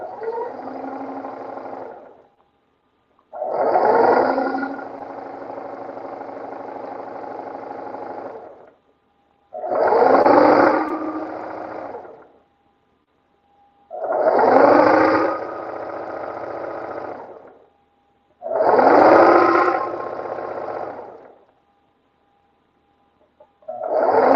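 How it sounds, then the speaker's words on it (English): A sewing machine stitches a scrunchie fabric tube in five steady whirring runs of several seconds each, separated by brief silent pauses, close and fairly loud with no talking. "And now we're just sewing the tube."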